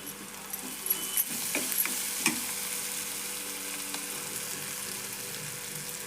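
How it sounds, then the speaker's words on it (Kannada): Chunumuri (puffed rice) seasoning frying in oil with turmeric, stirred in a pan: a steady close sizzle throughout, with a few sharp scraping clicks from stirring early on, no voices. "ಎಣ್ಣೆ ಒಳಗೆಲ್ಲ ಫ್ರೈ ಮಾಡೋಣ್ರಿ ಇವನ್ನೆಲ್ಲ"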